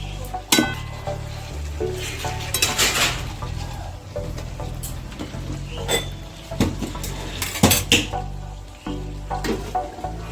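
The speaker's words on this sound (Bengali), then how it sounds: "এবার চাপা খুলে আলু যেগুলো ভেজে রেখেছি ওগুলো দিয়ে দেবো।" Lid lifted off a cooking pot of chicken and fried potatoes tipped in, with repeated metal clanks, clinks and scrapes of pot and utensil over a faint sizzle, close and irregular, no talk.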